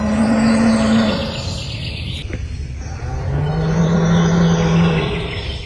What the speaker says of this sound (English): No animal or figure was ever seen, and the true source of the roar remains a mystery.